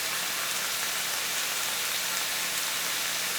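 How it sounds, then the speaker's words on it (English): Garlic powder and onion powder sauteing in a soup pot, giving a steady, even sizzle up close with no talking. "See, it's beginning to saute already."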